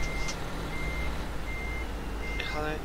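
A truck in a trucking video game reverses, its steady high beep tone sounding under a constant low engine drone, with a voice speaking briefly near the end.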